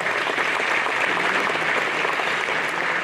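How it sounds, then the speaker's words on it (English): Steady, dense applause from an awards ceremony audience fills the room, holding at an even loudness throughout without pause or cheering. "Let's give them a nice round of applause."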